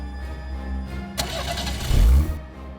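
A car engine cranks and catches, rising into a loud rev that settles toward idle, with a steady low rumble underneath throughout.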